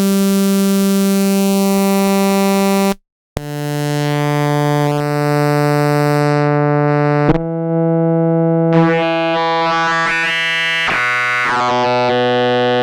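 A sustained synthetic tone with rich, buzzy harmonics is reshaped by a MeldaProduction wave folder plugin, shifting into harsher, folded distortion after a brief dropout and changing timbre in steps, with no voices.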